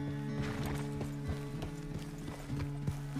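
Horse hooves clip-clopping in the video game Red Dead Redemption, a steady walking rhythm of distinct hoof strikes against a constant low hum, no talk over it.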